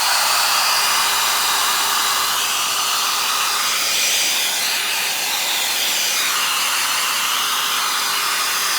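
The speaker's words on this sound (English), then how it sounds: "bear with me for a few minutes while the hairdryer is on." A hair dryer blows steadily at close range, drying leather repair filler, a loud continuous airy roar with a hissing top end that barely changes throughout.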